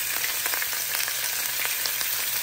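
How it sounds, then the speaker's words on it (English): Pot roast meat sears in a very hot, smoking pot, a loud, dense, even sizzle with tiny crackles throughout and no talking. "Start getting it all seared off right there."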